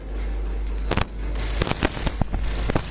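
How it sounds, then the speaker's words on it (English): Fireworks crackle and pop in a zombie video game, a steady low rumble broken by a burst near one second and then a run of sharp bangs and crackles through the rest. "Yes, fireworks!"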